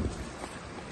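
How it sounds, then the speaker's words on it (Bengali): A fishing boat rocks at sea off Saint Martin's Island, heard as a faint broadband wash of water and wind buffeting the microphone, with no voices. "এই যে নৌকা,"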